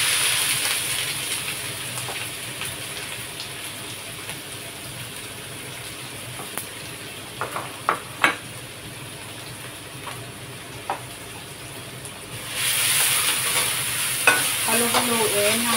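Onions fry in cooking oil in a pan with a steady sizzle, while a utensil scrapes and clinks during stirring. The frying grows louder and brighter toward the end, and no one speaks.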